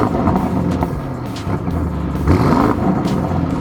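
Deep, rumbling exhaust from an Audi RS6/RS7 twin-turbo V8 with upgraded downpipes and midpipes, loud and close, rising and falling through revs with a burbling growl and brief throttle blips.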